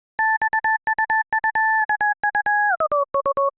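Synthesizer note at A5, one layer of a remake of a song, played as a rapid run of short, evenly spaced stabs with a steady two-tone pitch that glides slightly downward near the end.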